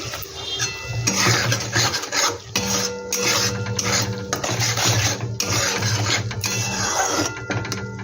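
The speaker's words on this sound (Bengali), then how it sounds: "এই মশলাটা একটু ভালো করে কষিয়ে নিতে হবে।" Masala being stirred and fried in a pan for muri ghonto, with steady scraping and rasping of a spoon against the metal, fairly loud and continuous, with no talk.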